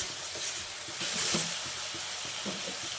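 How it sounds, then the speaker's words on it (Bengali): Spice masala fries in oil for an egg curry, a soft steady sizzle with faint stirring and a brief louder hiss in the middle, with no speech. "আর মশলাটা খুব ভালোভাবে কষিয়ে নেব তেল ছাড়া অবধি।"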